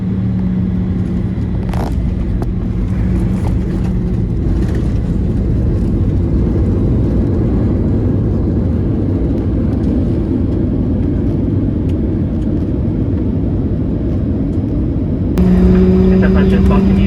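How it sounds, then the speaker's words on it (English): A Delta airliner cabin carries a loud, steady broadband roar of engines and airflow during the landing approach into Atlanta Hartsfield-Jackson airport, with a brief shift in tone near the end. "please enjoy our landing into the world's busiest airport, Atlanta Hartsfield-Jackson"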